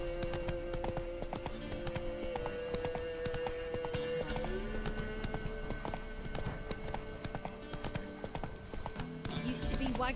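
Horse hooves clip-clop steadily as Geralt rides his horse in The Witcher 3: Wild Hunt, heading back to Crookback Bog, a continuous rhythmic patter under game music and a voice talking.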